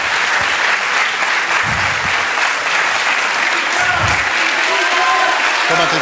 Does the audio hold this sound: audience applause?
yes